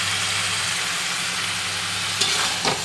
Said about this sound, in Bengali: এখন অনেকক্ষণ ধরে আমি কষাবো, একটু করে জল দেবো আর একটু করে কষাবো